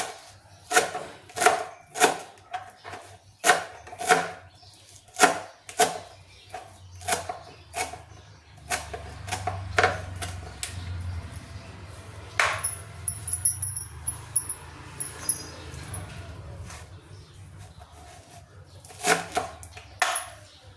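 Finely washed coriander leaves being chopped with a knife on a board, a rapid series of sharp taps in uneven bursts with a pause in the middle, close and clear.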